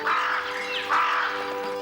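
Two harsh, drawn-out crow calls in a cartoon, each about half a second, rising and falling, heard fairly close against a quiet outdoor background.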